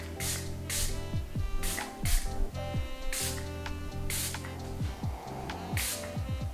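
One Size Powder Melt setting spray is pumped in a series of short, crisp misting bursts, about eight in all, each a quick hiss over faint background music, with no talking.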